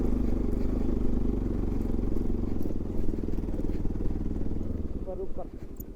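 Motorcycle ridden on a rough off-road dirt trail in Syangja, Nepal, its engine droning loud and steady up close with rattling clatter before easing off near the end.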